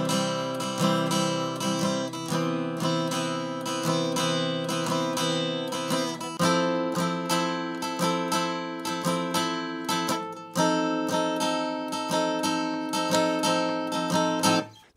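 Piano plays the syncopated, strum-like rhythm of a song, repeated chords pulsing steadily and fairly loud across the whole passage, with no voices.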